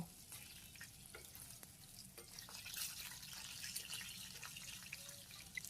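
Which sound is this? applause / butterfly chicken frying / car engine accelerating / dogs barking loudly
butterfly chicken frying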